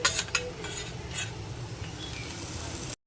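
Pointed gourd (potol) frying in mustard oil in a kadai, a soft steady sizzle with a few brief clinks of a spatula against the pan at the start, close and short.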